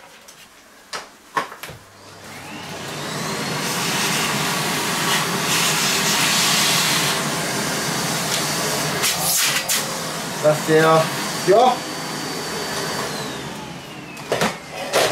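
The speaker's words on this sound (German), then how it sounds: "Muss definitiv der Staubsauger mit angemacht werden." A vacuum cleaner runs during a PC hardware build, a steady loud whooshing drone starting after about two seconds and holding to the end, with brief voices and clicks over it.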